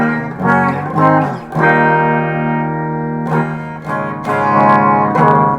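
Electric guitar chords ring out loud and sustained through an EVH 5150 Iconic 40-watt combo amp with only its built-in reverb, struck several times and left to decay, with no talking.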